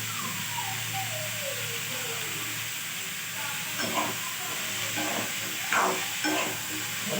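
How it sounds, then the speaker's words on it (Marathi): Onion frying in a pan for paneer curry, a soft continuous sizzle with a few stirring clatters toward the end, close and moderately quiet. "कांदा आपला थोडा भाजला झालेला आहे"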